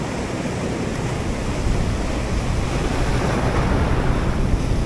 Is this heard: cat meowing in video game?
no